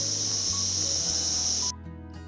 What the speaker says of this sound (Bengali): আর তার সাথে ঝিঝি পোকার ডাক